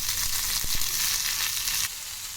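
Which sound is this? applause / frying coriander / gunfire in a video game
frying coriander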